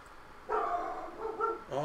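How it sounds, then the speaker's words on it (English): A pet dog barks in a couple of tonal, yappy bursts indoors, fairly close and moderately loud, with no voice over it. "My dog needs to shut the hell up."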